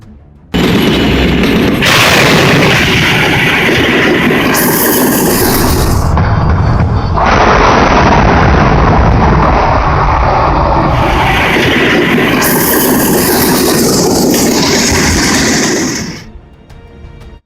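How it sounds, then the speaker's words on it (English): A train smashes into a pickup truck that crossed the barrier at a railway crossing in Poland, giving a loud, sustained crashing roar with heavy rumbling and metallic grinding that lasts many seconds before fading. "Recklessly crossing the barrier, the pickup truck was thrown away by the train."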